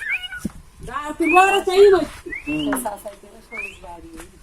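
A talking myna bird calls up close in a few bursts: drawn-out, speech-like, wavering cries, some almost meow-like, and short rising whistles, separated by brief pauses.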